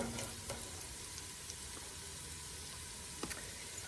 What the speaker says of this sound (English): I'm just letting that bacon kind of heat up there.